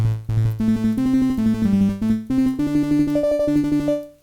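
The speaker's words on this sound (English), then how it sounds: "Sometimes I use the arpeggio on the Volca FM to make sounds like this." Korg Volca FM synthesizer arpeggio plays a rapid, evenly pulsed run of bright FM tones, stepping up in pitch over a sustained low note before fading at the end, loud and alone with no voices.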